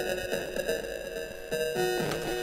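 Audio run through Logic Pro's Bitcrusher at an extremely low downsampled rate, giving a harsh, buzzy, aliased tone with stacked whining overtones and a rhythmic pulse, heard alone.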